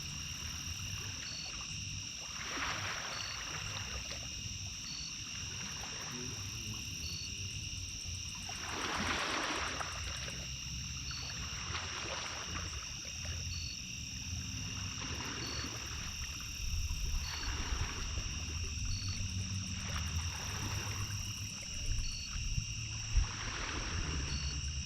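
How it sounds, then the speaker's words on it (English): A steady night chorus of crickets and frogs by the water, with soft periodic wave-like swells and a constant high insect trill. "I can't hear anything besides the waves and the crickets and the frogs."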